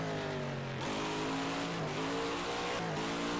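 A Mustang race car in a multi-class enduro race roars loudly and continuously as the engine climbs and drops through gear changes, heard close from the car itself with no voices.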